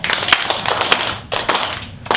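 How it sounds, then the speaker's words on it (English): A group of second-grade children claps hands during a school performance, the irregular slaps and taps rising and falling in loose bursts with brief pauses between them. "Then we're going to clap our hands."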